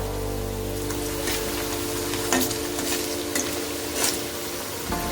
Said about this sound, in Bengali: দেখো আবার ভাজা চলছে।